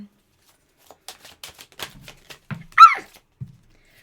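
Tarot cards are shuffled by hand in a quiet room: a series of light, close riffling snaps and taps, with one brief louder sound partway through.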